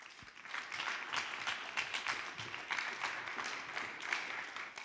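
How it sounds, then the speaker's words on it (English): A congregation applauds, a dense steady wash of many hands clapping, heard from a little distance and fairly faint, with no talking. "Give a clap to the Lord"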